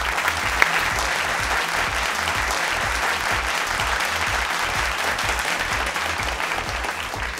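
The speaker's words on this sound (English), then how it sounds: "let's all put our hands together for the pentathlete of the match" A school pentathlon event audience gives a sustained round of applause for the pentathlete of the match, a steady, dense crowd clapping lasting several seconds with a low rhythmic thump beneath it.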